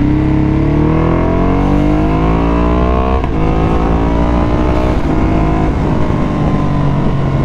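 A Ducati Hypermotard motorcycle engine runs close by, a loud steady idle with rising and falling revs and no voices.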